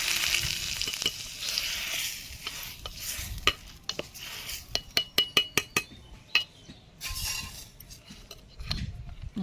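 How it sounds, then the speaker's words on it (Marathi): Hot tempering of mustard seeds and green chillies is poured into a coconut-style chutney and crackles with a loud, bursty sizzle, joined by a run of sharp metal spoon clinks against the pan midway. "चटणीला फोडणी घातलेली आहे"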